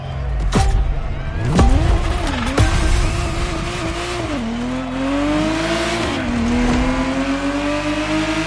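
Ferrari Testarossa engine in a PS4 racing game, roaring loud and close as it revs and climbs through gears with sharp shifts and a sustained rising whine, tire noise underneath.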